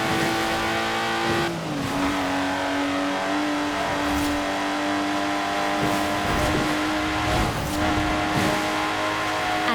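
A Lotus Exige sports car drives in Forza Horizon 4, its engine a loud, steady drone. The tone drops briefly around a gear change, then holds a high, even pitch, with short bursts of tyre and road noise.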